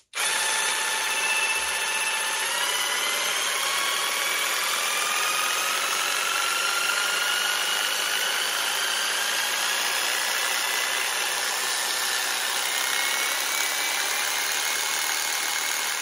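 An ENVENTOR jigsaw runs continuously, its motor whine climbing in pitch step by step as the speed setting rises from 1 to 6, a steady close mechanical hum with no voices over it.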